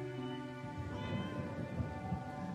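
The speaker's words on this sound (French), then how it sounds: "Rien de dangereux, c'est juste un ronron tout mou." Inside a house, a cat's soft, low purr rumbles continuously and close by, with a rhythmic pulsing texture and no other sounds.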